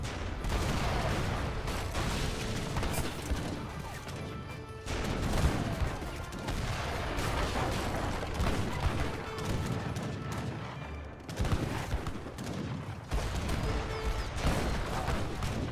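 Bombard cannons firing in the Age of Empires 3 strategy game, repeated heavy booms and crashing impacts amid a busy battle din, loud and sustained over several seconds, with no talking.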